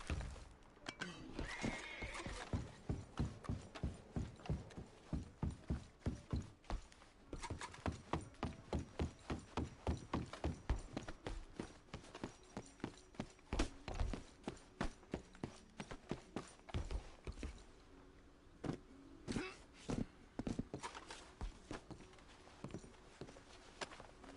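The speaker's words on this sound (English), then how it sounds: "There's a horse moving with me." Steady rhythmic clip-clop of horse hooves walking in Red Dead Redemption 2, close and continuous, with occasional thuds and other game sounds in the background.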